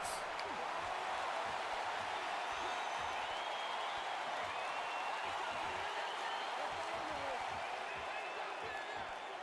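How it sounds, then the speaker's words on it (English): A UFC arena crowd roars in a sustained, loud wall of cheering and shouting that fills the whole stretch without letup, with a commentator talking over the din. "This crowd is going nuts."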